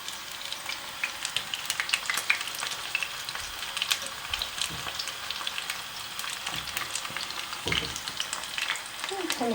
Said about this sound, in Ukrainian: Смажити наші кусочки будемо до рум'яна, поки всі не висмажені.